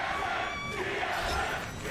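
An esports arena crowd at a TSM versus CLG match chants for team TSM, a loud, sustained roar of many voices filling the space with no talk over it.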